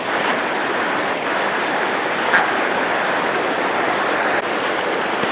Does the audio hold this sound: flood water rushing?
yes